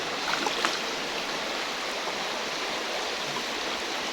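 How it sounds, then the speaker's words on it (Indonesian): A river flowing steadily, a broad continuous wash of running water that stays even and fairly close throughout, with no talk over it. "Sekarang ada di sungai"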